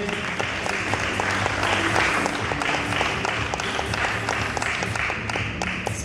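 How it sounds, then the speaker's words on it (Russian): Crowd applauding at a fitness bikini show in Voronezh, continuous clapping with some sharper individual claps standing out, over a background of music tones. "Аплодисменты."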